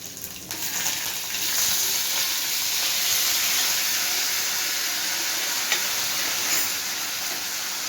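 Potatoes fry in hot oil with mustard seeds and curry leaves, a continuous close sizzle and hiss with faint stirring clicks throughout.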